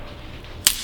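A small stick snaps once near the end, a single sharp crack over quiet background, close and brief.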